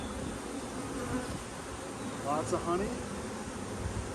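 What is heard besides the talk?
upset honey bees buzzing around hive frames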